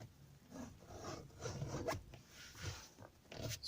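A zipper is drawn along a car headrest cover, giving quiet, closely miked rasping zips in short repeated pulls with small rubbing and handling noises between them.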